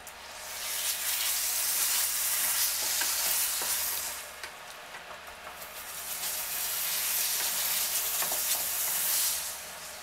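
Mutton cooked down with spices for bhuna gosht fries loudly in separated oil, a continuous hissing sizzle with repeated spoon scrapes and stirs close up, easing briefly in the middle before swelling again.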